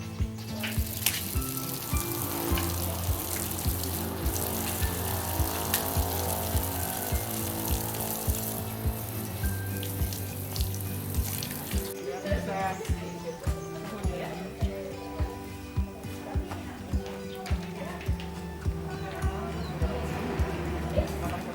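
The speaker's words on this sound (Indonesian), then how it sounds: "mencuci tangan pakai sabun dengan air mengalir" Tap water runs continuously as hands are washed with soap, a steady splashing stream heard beneath a speaking voice and background music.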